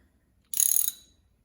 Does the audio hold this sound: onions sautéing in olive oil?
no